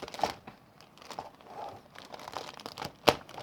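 Tape peeled and crinkled off the box of a Revell 1/32 Spitfire Mk IX model kit: a few quiet close crackles and tears with a sharper rip near the end, no speech.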